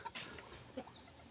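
Bantam chickens on a backyard farm give a few faint, brief clucks, quiet and somewhat close, with no talk over them.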